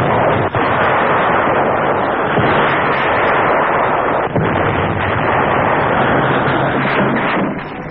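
Tank gunfire in a World War II newsreel about the Third Army's push into Germany: a dense, continuous roar of booming blasts and explosions, loud and close, with a few sharper reports standing out.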